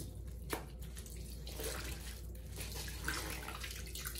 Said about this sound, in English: you're gonna go under hot water, hot, warm water, whatever you can tolerate